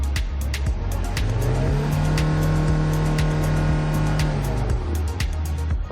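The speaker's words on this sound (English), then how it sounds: "Let's try to accelerate and show you the RPMs movement" A 2007 Kia Bongo III double-cab diesel truck with manual gearbox revs up from idle, its engine note climbing and holding steady at a loud, close pitch before dropping back down, with no talk.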